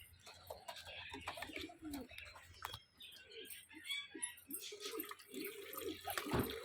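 Pigeons and finches cooing and calling in a morning bird enclosure while a water container fills nearby, soft repeated coos over a gentle running-water hiss, quiet and close.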